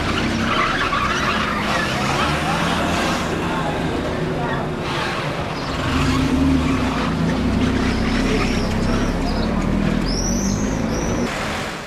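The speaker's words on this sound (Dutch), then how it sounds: "In de smalle straatjes kun je best wel auto rijden." A car drives through the narrow town streets of Arcos de la Frontera, giving a steady, dense rumble of engine and road noise that holds at an even level throughout.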